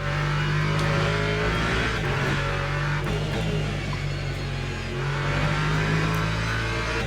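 Ford race car engine in the sim racing game Le Mans Ultimate during an online race, a loud steady roar rising and falling in pitch as the car accelerates, shifts and passes, with no talk.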